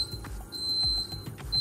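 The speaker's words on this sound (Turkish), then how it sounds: "Alarmımız öttü." A kitchen timer alarm beeps in a repeating high-pitched pattern while tenderloin cooks with a Cafe de Paris butter, cream and Roquefort sauce. The tones are thin and bright, over low sizzling and clattering noise, with no talk.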